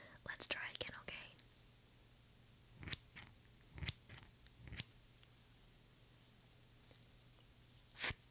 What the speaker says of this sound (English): That was real scissors